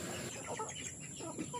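Hens and roosters clucking together on a farm, a steady low chatter of soft overlapping clucks from several birds close by, with no talking.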